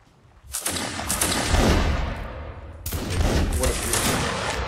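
A line of muskets fires a volley in the Napoleonic battle game Mount and Blade: Napoleonic Wars, a loud rolling crackle of many shots merging together, followed by a second burst, with voices of players audible underneath.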